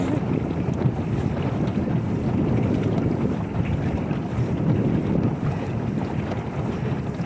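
A small boat pounds through big waves at speed, with wind buffeting and rushing water forming a dense, continuous roar that swells and eases slightly and never lets up.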